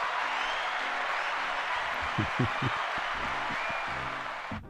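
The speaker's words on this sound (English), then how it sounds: "That's applause." Applause for a contest winner during a live Super Bowl contest stream, a steady, fairly faint wash of clapping running under low musical tones and a voice.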